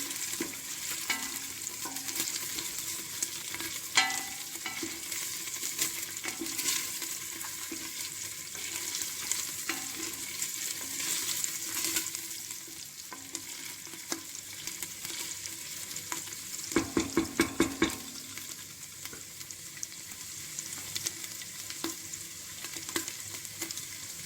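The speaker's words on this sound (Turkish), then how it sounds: "Evet hafiften kavruldu soğanlarımız. Etimi de atıyorum. Biraz da etle beraber kavrulsun." Onions and meat sauté together in a pan for a dry bean dish, a soft, continuous sizzle with occasional stirring clatter and a brief run of rapid scrapes.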